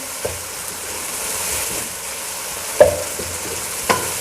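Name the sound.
beef liver frying and being stirred in oil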